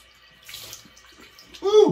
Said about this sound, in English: Cold water splash to close the pores.